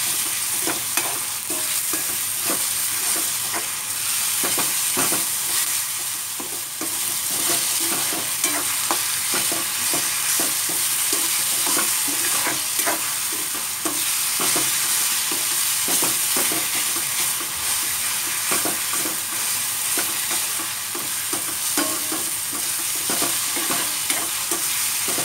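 Chopped tomato and onion being stirred and fried together in a pan, a continuous close sizzle with rapid, repeated spatula scrapes and clatter throughout, no voices.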